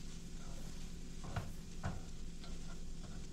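Food being stirred in a pan, a soft continuous sizzle with a couple of brief scrapes of the utensil, quiet and close, with no talking.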